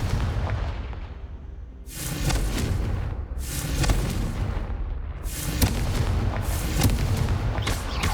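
Repeated Confringo fire-spell explosions in Hogwarts Legacy on PS5, four loud booming blasts spaced about a second apart, each with a crackling burst over a low rumbling bed.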